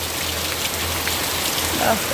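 Steady, dense rain hissing evenly throughout, a continuous wash of drops with a faint low hum underneath.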